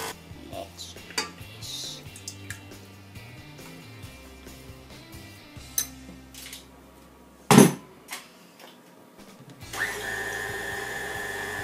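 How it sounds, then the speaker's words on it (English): A KitchenAid stand mixer whirs steadily as it blends almond cake batter with milk. A humming motor tone shifts pitch, with a sharp metallic clank midway, then a louder, broader whirring at the end. "now we're just mixing all of those together in our KitchenAid machine"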